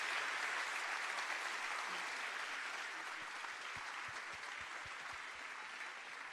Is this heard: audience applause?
yes